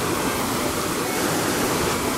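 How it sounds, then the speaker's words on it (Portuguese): The Cachoeira do Coqueiro waterfall in the Parque do Coqueiro, Pirenópolis, roars as a dense, steady, close rush of falling water with no break and no voices. "Aí aqui que é a Cachoeira do Coqueiro."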